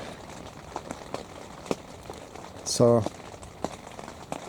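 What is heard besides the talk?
rain falling at an elk hunting camp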